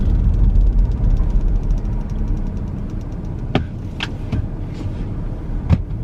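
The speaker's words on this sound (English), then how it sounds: "Why is that rattling?" Rattling inside a moving car, with a low steady road rumble and several sharp clicks and knocks from the cabin popping up irregularly through the second half.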